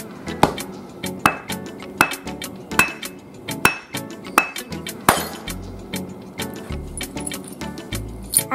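A purple-painted glass vase is broken into pieces for making sea glass, with a regular series of sharp, close strikes and clinks of glass, roughly one every second, followed by quieter crunching.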